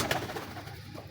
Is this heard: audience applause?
no